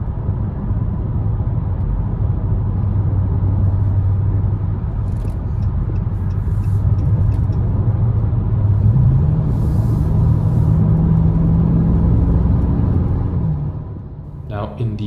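A 2020 Dodge Charger R/T Scat Pack Widebody engine drones steadily from inside the cabin, its pitch rising midway as it accelerates, then easing off near the end.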